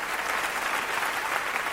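Audience applause at the Bracknell Jazz Festival in July 1986, a steady wash of many hands clapping at moderate level.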